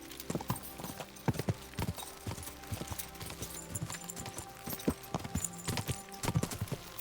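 Horse hooves clip-clop in Kingdom Come: Deliverance II, a quiet, steady walking rhythm of soft thuds repeating across the whole stretch with faint background ambience.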